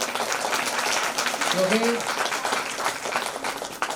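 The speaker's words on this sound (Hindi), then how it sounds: "तो इनके लिए जोरदार ताली बजाई जाए और डबल बजाई जाए" An audience at a religious festival gathering claps in a sustained, fairly close round of applause while someone speaks over it.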